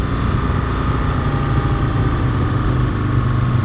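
An Aprilia RSV Mille R motorcycle cruising on light, steady throttle at low urban speed around Sheffield, giving a loud, even engine drone that holds unchanged from start to finish.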